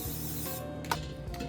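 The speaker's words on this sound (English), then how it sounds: "You're gonna wanna use some kind of cooking spray so that your tofu doesn't stick." Cooking spray hisses into an air fryer basket in a short, close burst lasting about half a second, followed by faint clicks and handling noises.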